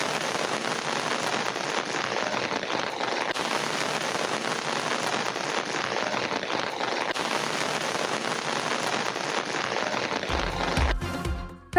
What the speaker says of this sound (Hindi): इस्लामाबाद के मुख्तलिफ सेक्टर्स में गरज चमक के साथ मूसलाधार बारिश।